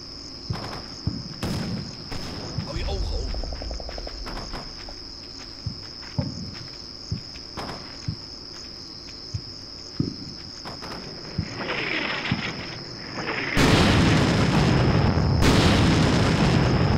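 Artillery fire landing in the Combat Mission Shock Force war game, a series of separate booming impacts spaced a second or two apart over constant cricket chirping, ending in a loud, sustained heavy rumble.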